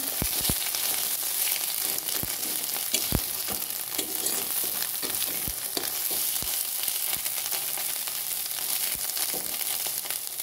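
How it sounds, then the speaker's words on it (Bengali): Thankol greens frying in a pan over medium heat, with a steady loud sizzle broken by repeated sharp scrapes and knocks of a spatula stirring throughout. "এই থারকোল শাকটা দিয়ে দিলাম। নাড়াচাড়া করে নেব। নাড়াচাড়া করে নিচ্ছি।"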